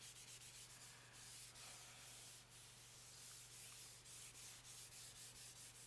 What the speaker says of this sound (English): I'm just sliding this around the paper, letting it absorb on its own